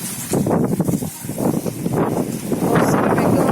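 Strong monsoon wind at Pattamundai buffets the microphone in loud, uneven gusts and surges, a rough rumbling roar rising and falling close up, with no speech.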